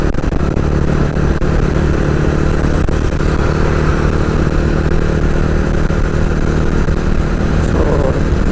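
A TVS Ronin 225 motorcycle riding on a road trip, its engine droning steadily and loudly up close with heavy wind rush throughout and no voices.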